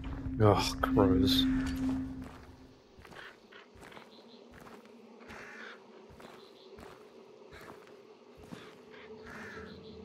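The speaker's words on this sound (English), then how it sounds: "Oh, crows." Crows cawing in the video game Hunt: Showdown, a few harsh calls at moderate distance amid ambient insect buzz and soft footsteps, with a voice speaking over the opening seconds.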